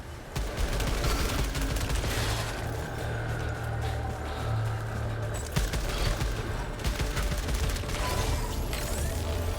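Rapid sci-fi gunfire in the video game Returnal, a dense, fairly quiet stream of shots and impacts that runs for the whole clip over background game noise.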